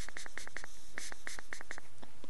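A carburetor fuel pump membrane being flexed back and forth gives a quick run of small, sharp clicks, mostly in pairs, heard close up with no talking.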